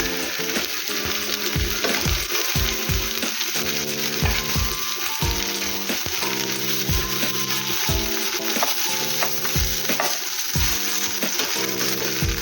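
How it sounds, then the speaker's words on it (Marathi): Halwa (pomfret) fish frying in a pan with very little oil, Konkan style: a steady sizzle runs throughout, with regular clinks and scrapes as the fish is turned and stirred. "कमी तेलावर अगदी छान मस्त शेकली जाते."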